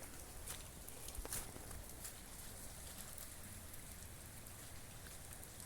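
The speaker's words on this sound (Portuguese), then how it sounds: "Chuva demais, galera." Heavy rain falling during intense storms in Minas Gerais, Brazil: a faint, constant hiss of downpour with scattered patters and drips on nearby surfaces, steady throughout and without voices.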